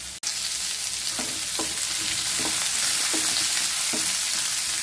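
Radish sautéing in oil for a Tamil Nadu-style radish dal sambar sizzles steadily, broken by about five soft stirring scrapes spaced roughly a second apart, close and unaccompanied by talk.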